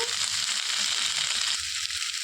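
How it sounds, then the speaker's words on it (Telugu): Carrot and tomato pieces frying in oil for a Hyderabadi veg dum biryani give a loud, steady, close hiss and sizzle that runs unbroken throughout. "క్యారెట్ ముక్కలు వేసుకోవాలి సన్నగా తరిగి పెట్టిన టమాటా ముక్కలు కూడా వేసేసుకొని వేయించుకోవాలండి"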